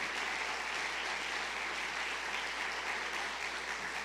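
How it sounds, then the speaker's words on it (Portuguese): A church congregation applauds in a dense, steady wash of clapping that holds evenly throughout, with no gaps or talk over it. "você pode aplaudir Jesus por isso"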